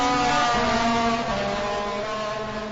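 Race car engines at a Suzuka motor race, a continuous loud droning roar with steady harmonic engine tones and slight pitch shifts, filling the whole moment with no voices.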